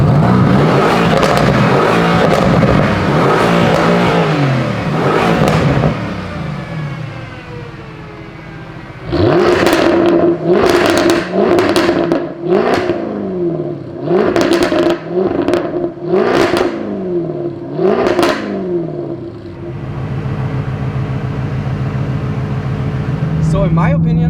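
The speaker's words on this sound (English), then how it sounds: "let's compare the sound of the F-Type R to the AMG GT-S" Tuned 2020 Mercedes-AMG GT-S and Jaguar F-Type R V8 engines revving in a series of sharp, loud bursts, preceded by talk over a running engine and followed by a steady idle.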